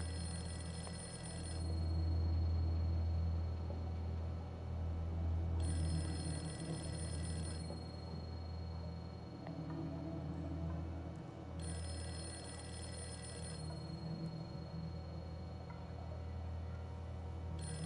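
A telephone ringing alone over a steady low hum, repeated long ring bursts with pauses between them, fairly constant and moderately loud across the whole span.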